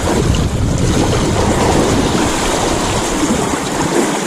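Strong sea waves slosh and churn around a small fishing boat off an island, a loud, continuous roar of surf and water mixed with heavy wind buffeting the microphone, with no voices.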